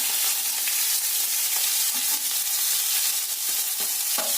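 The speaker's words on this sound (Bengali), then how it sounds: "একটু হলুদ দিয়ে আগে আলুগুলোকে ভালো করে ভেজে নিচ্ছি" Potatoes with turmeric, asafoetida and ginger frying in a pan give a steady, loud sizzle throughout, with occasional stirring scrapes and no talking.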